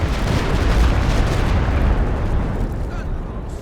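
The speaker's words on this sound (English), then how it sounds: "Stuka barrage into the center" Rumbling Stuka dive bomber barrage explosions pound the center of a Company of Heroes 2 match, with dense, continuous booms and crackling bursts filling the clip before easing slightly near the end.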